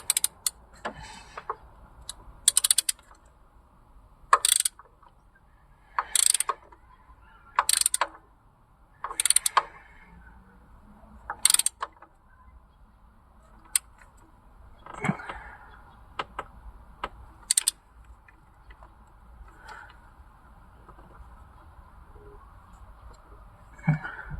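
A torque wrench ratchets while spark plugs are tightened on a Honda Prelude IV engine, giving short, sharp clicking bursts spaced several seconds apart against faint background hum, close and fairly quiet.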